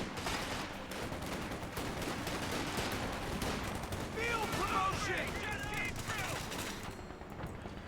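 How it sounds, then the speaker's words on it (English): Pack howitzer artillery fire and gunfire in the video game Company of Heroes 2, heard as faint, dense battle noise with repeated bursts and booms in the background. "The pack howitzer is a very deadly indirect fire weapon."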